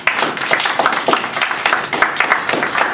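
An audience in a room gives a round of applause, with many hands clapping in a dense, lively patter that holds steady for several seconds.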